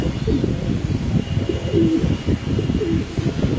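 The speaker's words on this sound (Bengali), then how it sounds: "আমরা কবুতরের ডাকটা দেখানোর চেষ্টা করতেছি" Caged pigeons coo in soft, repeated low throaty calls, steady and close, with a few faint chirps layered over a constant rumble of background noise.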